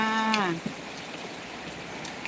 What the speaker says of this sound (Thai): นี่คือตื่นเช้ามาเจอฝนตกนะคะ ชุ่มฉ่ำมากเลยนะคะ